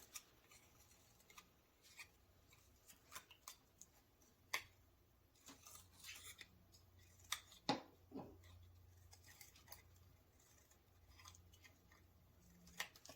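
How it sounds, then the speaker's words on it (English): Scissors snip paper into thin strands for a craft, giving a series of quiet, close, irregular crisp cuts and clicks, some in quick clusters, over a faint background. "Now we're going to cut this into little strands of blowing hair."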